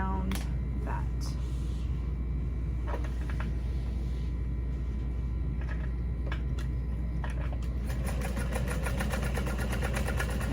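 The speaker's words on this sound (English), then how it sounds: "we're gonna sew all the way around that" A sewing machine runs steadily, stitching around backpack pieces to baste them together, a continuous mechanical hum with sharper clicks and short bursts of higher whirring throughout.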